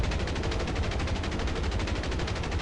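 Bomber gunners fire machine guns in the War Thunder video game, a dense, unbroken burst of rapid gunfire that stays loud and close for the whole stretch.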